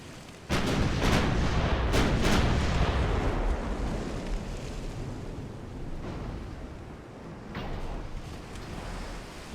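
Naval guns fire from warships in the Ultimate Admiral: Dreadnoughts naval game, set in an 1890 war between Italy and Britain. Several loud, close booms land in quick succession, then a long rolling rumble fades under faint later blasts.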